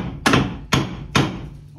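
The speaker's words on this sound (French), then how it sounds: "Ça fait une heure qu'il tape un marteau." Three sharp hammer blows land about half a second apart, each a loud, dry impact with a short ring-off, with no voices in between.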